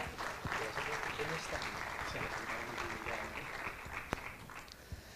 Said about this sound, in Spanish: Fuerte aplauso para ella.